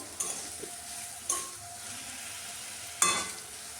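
Spice paste with salt, chili powder and a little sugar being sautéed in a pan while cooking chana dal, a low steady sizzle with a few sharp scraping stirs of a spoon against the pan, no talking.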